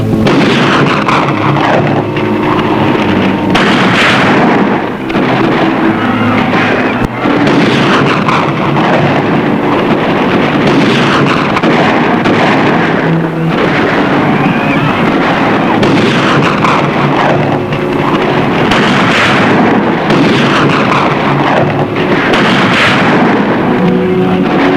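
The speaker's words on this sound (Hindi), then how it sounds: "गोली चला दो" Gunfire in an Urdu action drama scene: loud, dense bursts of shots and booming blasts pound almost without pause for around twenty-five seconds.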